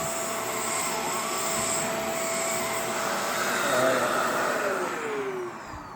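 A Shark Rotator vacuum cleaner drones steadily and loudly as it runs over a couch, its motor whine holding constant throughout with a slight pitch shift near the end.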